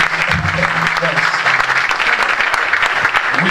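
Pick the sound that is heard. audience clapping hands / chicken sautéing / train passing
audience clapping hands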